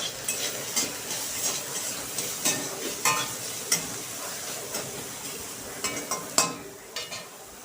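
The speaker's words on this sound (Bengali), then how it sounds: "দেখুন আমার আলু আর উচ্ছেটা ভাজা হয়ে গেছে।" Potato and bitter gourd fry in a pan with a soft steady sizzle, broken by repeated scraping and stirring strokes at a quiet level, with no voices.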